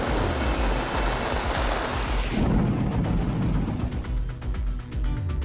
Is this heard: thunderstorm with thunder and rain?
yes